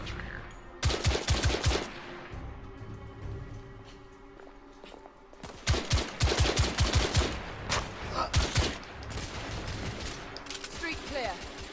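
Close, loud gunfire bursts from a gun in The Order: 1886, two rapid volleys of evenly spaced shots separated by a quieter pause, with game voices and background noise in between.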